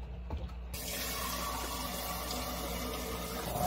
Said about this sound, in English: First we have to fill this with water.